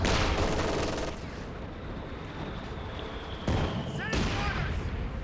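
Artillery and gunfire in the World War II strategy game Company of Heroes 2, a constant heavy rumble of battle with booming impacts and crackling shots that swell and drop across the clip.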